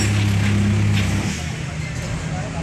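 Steady low engine drone of an ALS bus numbered 365, recently cleaned and fitted with a replacement engine, running continuously and close, with a voice speaking over it.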